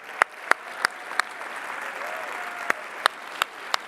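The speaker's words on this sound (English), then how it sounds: "for everybody to give them a big round of applause for all the hard work" Scattered, separate handclaps ring out at irregular intervals from an audience at the SIGGRAPH 2024 Real-Time Live event, each sharp and close over a steady room murmur.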